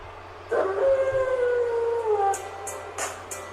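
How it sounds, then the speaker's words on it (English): A wolf pack howls as a wrestling entrance effect in the WWE 2K18 video game, with long rising and falling howls over a steady low background hum, followed by short bright bursts near the end. "And we hear the howling here of the wolf pack."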